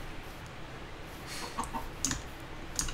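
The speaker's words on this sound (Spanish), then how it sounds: "¡Ay, la gallina! ¡Dame los huevos!" A chicken in the video game Minecraft clucks a few times, short faint bursts over a soft ambient background, with no talking.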